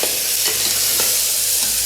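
Soya pulav ingredients fry in a pan with a dense, close sizzle and a few soft stirring scrapes, heard alone without talk.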